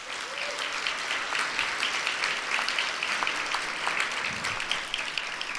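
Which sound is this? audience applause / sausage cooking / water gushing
audience applause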